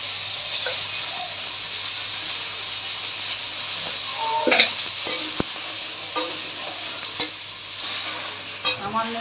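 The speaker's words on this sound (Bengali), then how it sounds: "সামান্য একটু জল দিয়ে নাড়াচাড়া করছি" Spices with salt, turmeric and a splash of water are stirred in a frying pan for a spinach dish, giving a steady close sizzle and hiss broken by scraping strokes and a few sharper clinks of the spoon against the pan.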